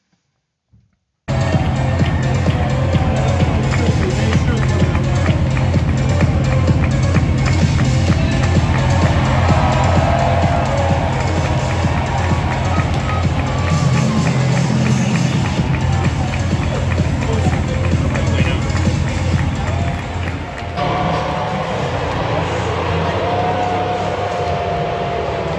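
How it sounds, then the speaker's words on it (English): A loud, dense stadium crowd roars continuously at the Pinstripe Bowl college football game between Rutgers and Miami, a sustained wall of cheering and noise close up, dipping slightly near the end. "Just take a listen to the crowd reaction."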